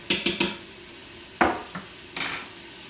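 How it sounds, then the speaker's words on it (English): Garlic is spooned and tossed into a power pressure cooker pot for corned beef brisket: three quick metallic clinks of spoon on pot, then a sharp clatter, a smaller knock, and a brief scraping rustle, close and fairly loud with no talk. "Gonna take a little bit of garlic like that, throw it in there."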